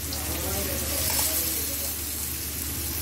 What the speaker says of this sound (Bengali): এখন এটা আমরা নেড়ে নেব।